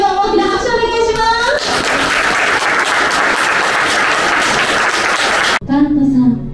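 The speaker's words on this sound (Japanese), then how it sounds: "大きな拍手お願いします" A wedding ceremony crowd bursts into loud, sustained applause that fills several seconds before cutting off abruptly, with voices speaking before and after the clapping.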